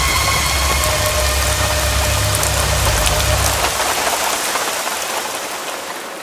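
Heavy rain pours down steadily in a dense, hissing wash, loud and close, with a low engine-like rumble underneath that fades partway through.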